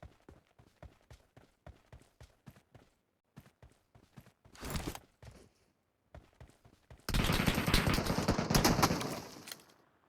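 Gunfire in PUBG Metro Royale: sharp single shots crack in an irregular rhythm, joined midway by a brief burst and then a long, loud sustained stretch of rapid firing.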